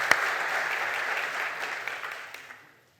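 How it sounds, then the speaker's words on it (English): Applause from a conference audience at a SwiftUI talk, a brief burst of clapping that fades out within about three seconds. "Let's do one more huge round of applause for the organizers and everybody who makes this possible."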